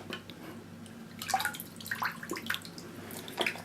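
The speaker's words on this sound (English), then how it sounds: "let it all drain out" Water drains and drips from a Dyson V6/V8 cordless vacuum filter lifted out of a basin after rinsing, with irregular splashes and trickles, close and moderately loud, no speech.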